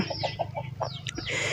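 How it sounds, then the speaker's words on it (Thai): Chickens cluck in a quick series of short, close clucks, loud and clear over steady outdoor background noise. "มีแต่เป็ดแต่ไก่แต่หมู"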